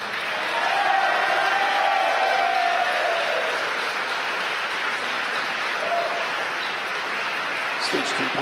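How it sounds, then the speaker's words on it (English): Crowd cheering and applause during a Falcon 9 first stage landing at LZ-1, Cape Canaveral, Florida, a steady broad roar of many voices that holds throughout, with a faint tonal line running under it. "you can tell by the cheering in the background"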